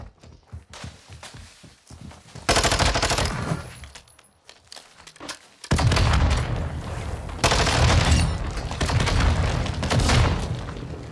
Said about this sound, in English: they got a grenade launcher on you, bro